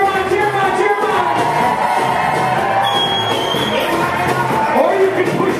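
Wedding reception guests cheer and shout in a loud, continuous crowd din, whoops and voices blending as tables are urged on around the room.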